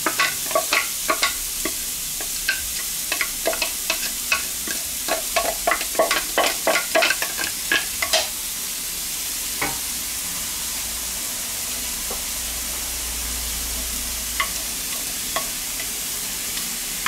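Onions frying in a pan for a hunter-style chicken pasta, a strong hiss with a quick run of spatula taps and scrapes early on, then steady sizzling alone, near and loud.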